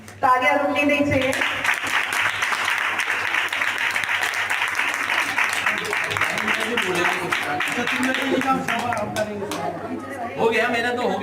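Audience at a ceremony for Louis Braille's birth anniversary held by a blind persons' association claps steadily for several seconds, with voices talking over and around the applause.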